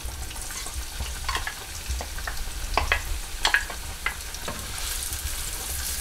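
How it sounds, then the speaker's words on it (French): Onions go into hot oil in a cooking pot, frying with a steady close sizzle and crackle, with occasional clinks and stirring scrapes and no talking. "Je constate que l'huile est également assez chaude dans cette marmite-ci. Donc je vais mettre mes oignons."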